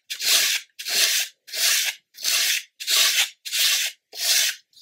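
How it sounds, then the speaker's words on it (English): Seven even, rhythmic strokes of sandpaper rub along the wooden hull of a 1/64 scale HMS Fly model ship, each scrape close and crisp, with short pauses between strokes. "we can just simply start sanding this out now."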